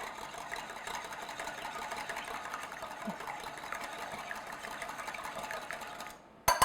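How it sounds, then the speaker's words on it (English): Two large room-temperature eggs whisked in a bowl for a fruit cake batter, a steady, continuous rapid whirring beat throughout, close and fairly loud, with no talk, ending in a short louder clatter. "I have 2 large eggs."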